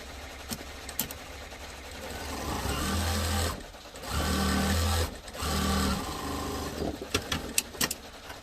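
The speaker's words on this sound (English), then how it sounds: "I'm going to sew up the sides first." A sewing machine in a workshop stitches up the sides of a fabric piece, running in several steady, humming bursts with short pauses and a few sharp clicks between them.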